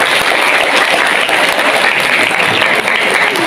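Loud, dense applause fills an awards ceremony hall in Mojokerto, East Java, a continuous roar of many hands clapping without pause.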